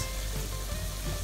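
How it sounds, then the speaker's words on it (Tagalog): Chicken skin chicharon frying in its own rendered fat gives a dense, steady sizzle and crackle throughout, close and even, with no talking. "iprituhin ulit natin siya"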